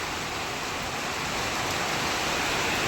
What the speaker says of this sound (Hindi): लेकिन बारिश भी देखो कितनी तेज़ बारिश हो रही है।